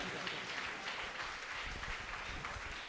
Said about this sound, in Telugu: అందరము కూడా గట్టిగా చప్పట్లు కొట్టి దేవునికి స్తుతులు స్తోత్రములు చెల్లించుదాం.